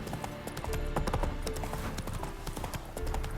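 The horse Roach trots in The Witcher 3 game, hooves clip-clopping steadily over a busy background of ambient sound.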